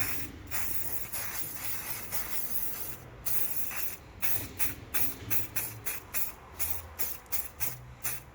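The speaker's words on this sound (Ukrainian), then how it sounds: "З балончика наносити розкислювач іржі." An aerosol can of rust converter sprays in a steady hiss for a few seconds. It then gives a run of short, rhythmic bursts separated by brief pauses, loud and close, with no talking.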